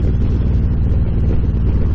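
A Harley-Davidson Road Glide engine, fitted with Vance & Hines Power Duals headers and Reinhardt DBX 4.5-inch slip-on exhaust, rumbles at a steady idle close to the microphone, a deep and even throb.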